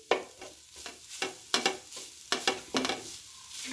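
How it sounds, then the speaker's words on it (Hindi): Keema sandwich filling being stirred and fried in a pan, with repeated scraping strokes of the spoon over a steady low sizzle, close up and with no talking. "पाँच मिनट तक मैं इसे मज़ीद अच्छे से भूनूंगी।"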